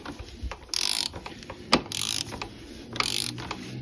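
Ratchet wrench with a 32mm socket snugging down an oil filter housing on a Jeep Patriot/Compass CRD diesel, giving several short bursts of rapid close metallic clicking separated by brief pauses and small knocks, with no talking.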